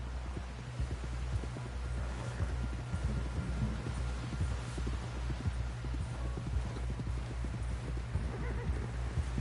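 Steady clip-clop of horse hooves at a fast, rhythmic pace over a low constant hum, with an occasional whinny, continuous and fairly close, from the video game Red Dead Redemption 2.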